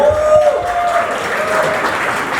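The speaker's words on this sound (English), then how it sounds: "applause to them" Guests at a wedding reception applaud visiting families, a steady wash of clapping under a faint lingering tone and some voices.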